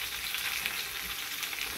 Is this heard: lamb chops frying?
yes